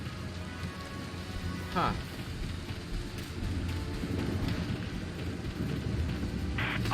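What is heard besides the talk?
rainstorm with thunder in the video game Valkyria Chronicles 4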